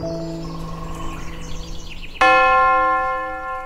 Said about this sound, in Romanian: Clopotele la Pokrov